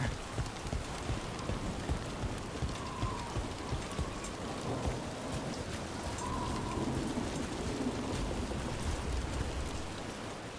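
Steady rain falls throughout in the video game Dragon Age: The Veilguard, a dense continuous patter on surfaces with faint rumbling underneath, no voices.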